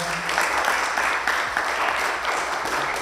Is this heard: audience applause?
yes